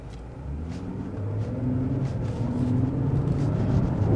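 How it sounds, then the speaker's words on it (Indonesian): A Nissan Fairlady sports car with 330 horsepower accelerates hard on an open road, a deep engine rumble heard from inside the cabin that rises steadily in loudness. "Sekarang kita coba aja sensasi dari akselerasi Nissan Fairlady ini"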